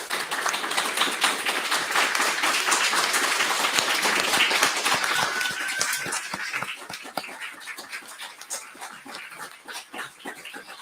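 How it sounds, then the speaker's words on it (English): Audience at a panel discussion applauds the panelists with dense, fairly loud clapping that gradually thins into scattered individual claps toward the end. "Can we do a round of applause?"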